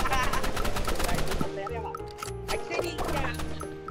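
Gunfire in the video game Rivals comes as a rapid, loud burst of automatic fire, followed by scattered single shots and clatter over a busy game soundscape.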